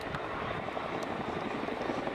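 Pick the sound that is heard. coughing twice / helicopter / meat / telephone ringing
helicopter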